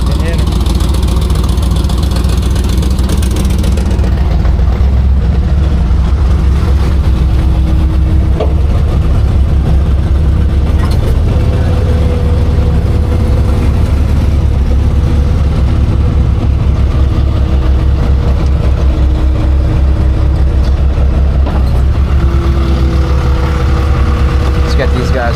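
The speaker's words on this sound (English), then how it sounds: "Sounds like it's got an exhaust leak now too." Big block 454 V8 in a 1965 Chevy C10 pro street truck with a broken header and exhaust leak, idling loud and close with a deep steady rumble for the whole stretch.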